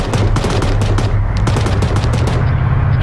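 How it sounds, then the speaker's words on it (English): Rapid automatic gunfire from a BMP armored vehicle in ARMA 3 during a Fallujah escort mission, loud, close bursts of cracking shots with a heavy low rumble beneath, firing almost continuously with brief gaps. "Shots coming in from the BMP."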